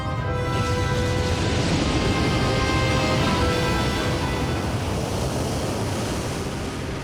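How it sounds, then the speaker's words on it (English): Massive ocean waves surge across the open Atlantic in a loud, continuous roar of surf and rushing wind, steady and close with no pauses throughout. "The waves cross the Atlantic at over 500 kilometers an hour, heading for Africa and Europe."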